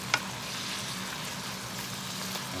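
Zucchini and squash cook in a Power XL air fryer pot with a faint, steady sizzle and a soft hiss, plus one brief clink near the start.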